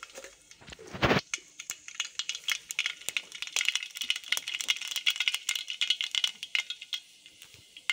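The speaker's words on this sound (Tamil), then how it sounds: "எண்ணெய் காஞ்சிருச்சு, கடுகு போட்டுக்கலாங்க." Mustard seeds crackle and pop in hot oil for a tempering, before onion and green chilli go in. A dull thump comes first, then a rapid, irregular spatter of small popping bursts that builds and continues, with no voices.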